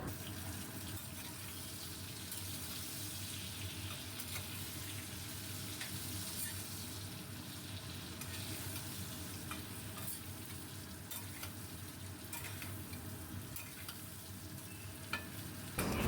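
Brinjal sizzles steadily as it fries with salt, turmeric and Kashmiri red chilli powder for a brinjal-hilsa dish, with continuous stirring and scraping throughout and no talk.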